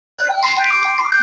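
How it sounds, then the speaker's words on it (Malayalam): A mobile phone starts ringing in a Malayalam comedy skit, a sudden, loud, bright electronic tone that holds steady for about a second. "ഫോണ്."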